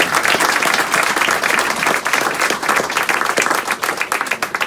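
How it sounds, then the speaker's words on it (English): An audience at a community library and hub event breaks into loud, sustained applause, a dense wash of many hands clapping nearby. "you're going to have to clap really loud for them to hear you"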